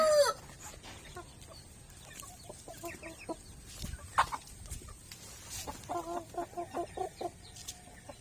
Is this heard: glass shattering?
no